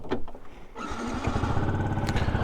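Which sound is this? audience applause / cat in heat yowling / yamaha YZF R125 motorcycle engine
yamaha YZF R125 motorcycle engine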